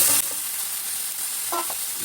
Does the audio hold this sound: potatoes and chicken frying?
yes